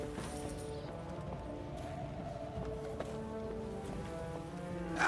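Horses pulling a cart in a video game make a steady, moderately quiet clip-clop of hooves under a low rolling rumble, continuing evenly throughout with faint musical tones in the background.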